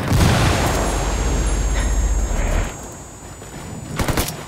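A frag grenade in Ghost Recon Breakpoint explodes with a loud, deep boom that rumbles and fades over a couple of seconds, followed by a few sharp pops.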